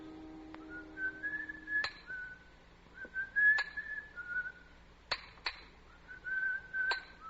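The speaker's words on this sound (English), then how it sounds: "From the yard itself came a cheery whistle, the noise of hammer blows" Cheery whistling drifts from a monumental mason's stone yard in an old-time radio drama, short melodic phrases broken by sharp hammer blows of steel striking stone at irregular intervals.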